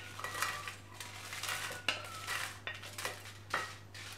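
Roasted dried red chillies tip onto a metal plate, giving a run of light metallic clinks and scrapes close by during a Tamil idli podi preparation.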